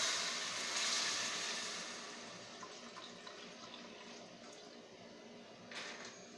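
Chicken broth from the previous night's boiling is poured into a pot for Filipino chicken noodle soup, making a steady, splashing liquid rush that swells early and gradually settles into a softer trickle.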